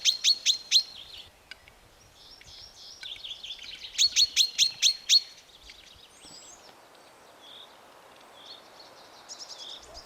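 Grouse cocks sing at a forest lek, with clustered bursts of sharp, high chirping notes repeating in rapid groups, then scattered softer calls over a quiet background.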